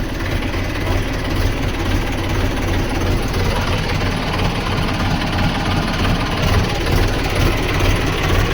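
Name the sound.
tractor engine running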